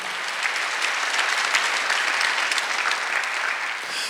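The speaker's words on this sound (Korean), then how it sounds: "믿는 사람만 박수 치시기 바랍니다" Church congregation clapping during a Sunday worship service, a loud continuous wash of many hands that stays even throughout with no talking.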